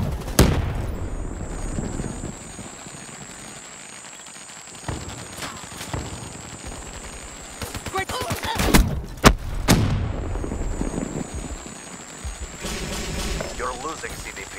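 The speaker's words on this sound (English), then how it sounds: "Incoming frag!" A frag grenade explodes amid gunfire in Call of Duty: Black Ops III: scattered sharp shots and a loud blast near the middle, with a warbling electronic tone overhead and voices speaking at times.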